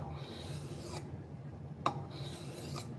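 A knife blade is stroked across a 3000 grit sharpening block, giving soft, close rasping passes, two long scrapes with a small knock between them, and no speech.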